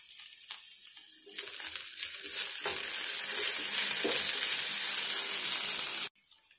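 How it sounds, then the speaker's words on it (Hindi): Ginger garlic paste hisses and crackles as it is stirred through hot oil in a frying pan, a steady close sizzle that swells louder partway through and then cuts off abruptly near the end. "अब मैं इसमें ऐड करूंगी जिंजर गार्लिक पेस्ट, इसे भी मिक्स करें।"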